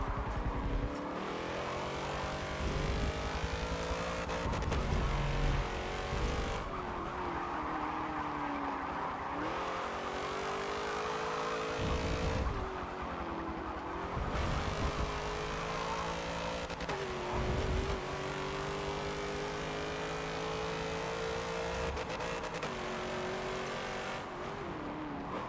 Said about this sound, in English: I just realised this thing's got a bit of a big exhaust.